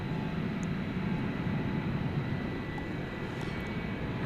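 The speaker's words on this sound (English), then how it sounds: "Turkish Dreamliner headed back to Istanbul." A Turkish Airlines Boeing 787 Dreamliner departs Dallas Fort Worth for Istanbul, its engines a dense, constant low roar with faint high whines on top, holding steady throughout with no one talking.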